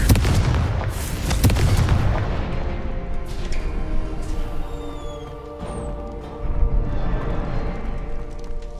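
A Confringo fire spell cast in the Hogwarts Legacy video game sets off a burst of booming explosions. Several loud blasts come in quick succession, then a rumbling tail and a further burst near the end, with no voices over them.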